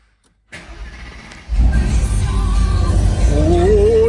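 A Mercedes-AMG SL63 Petronas edition with a 4-litre V8 biturbo engine clicks, then the starter cranks and the engine fires with a loud, deep roar, settling into a strong rumbling idle with a faint rising whine.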